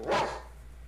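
A single short dog bark from the 1982 film Poltergeist, bright and fairly close, fading into a low background hum.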